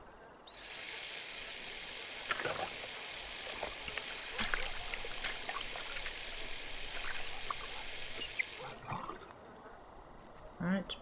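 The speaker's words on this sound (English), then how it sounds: "now we can start washing up" Water runs steadily at a kitchen sink while dishes are washed in The Sims 3 video game, a continuous faint stream lasting several seconds with light clinks and quiet speech around it.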